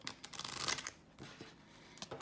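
A tarot card deck is shuffled by hand, a quick crisp riffle of cards followed by softer, faint shuffling and handling sounds, close and quiet with no talk.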